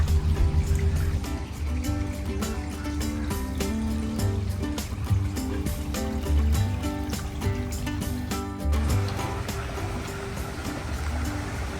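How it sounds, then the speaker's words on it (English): Water splashes and trickles continuously over rocks, a small cascade in a stream at a Florida spring, heard close by with no voices. "Sounds like it's like a waterfall over here."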